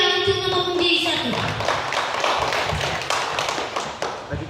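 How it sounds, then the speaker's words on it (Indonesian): A crowd applauds for a contestant at a church youth singing competition semifinal, a dense burst of clapping that fades slowly over a few seconds as music dies away. "Berikan tepuk tangan yang meriah untuk nomor kuning 1"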